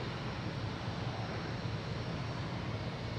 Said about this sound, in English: We have a 767 coming in from Dublin,